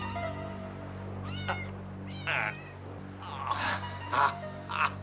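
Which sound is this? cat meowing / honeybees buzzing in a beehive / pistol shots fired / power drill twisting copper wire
cat meowing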